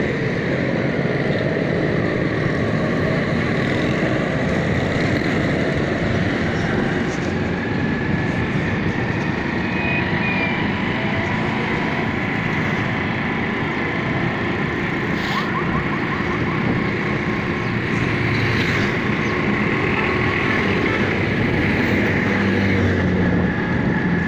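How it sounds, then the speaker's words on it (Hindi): A motorbike ridden one-handed along a road toward a railway crossing gives a steady, loud engine drone mixed with wind rush that continues unbroken throughout. "एक हाथ से बाइक चल रही है"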